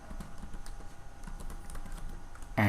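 Rapid keystrokes on a computer keyboard while code is typed into a Django form, soft irregular clicking with a faint steady hum, ending in a brief louder clatter.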